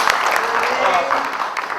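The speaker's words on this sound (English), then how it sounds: "Can we give the sister a round of applause?" Audience at a Mother's Day celebration applauding a woman, a steady, fairly loud patter of many hands with voices mixed in.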